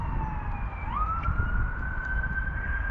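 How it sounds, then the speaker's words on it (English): An ambulance siren passing near a hospital, heard outdoors by a fishing spot: a steady, rising-and-holding wail at moderate distance over low background rumble, no talk. "Hear the ambulance go in there because there's hospital just pretty close"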